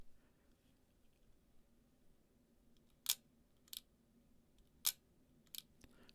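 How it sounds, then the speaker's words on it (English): Several crisp mechanical shutter clicks from a vintage Voigtlander Brillant medium-format TLR film camera sound one at a time, spaced about a second apart, against a quiet, faint background. "Listen to the shutter."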